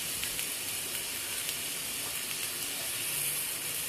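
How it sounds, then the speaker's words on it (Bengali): Prawns and pumpkin fry in a pan, giving a steady close hiss of sizzling oil that holds evenly throughout with faint crackles and no voices. "इसको फ्राई करना पड़ेगा अब जब तक ये अच्छे से सूख ना जाए"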